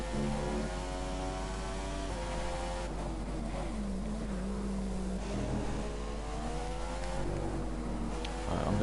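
Race car engine in a PS4 racing game, a continuous droning hum with gentle throttle rises and falls under a low steady background, no talking.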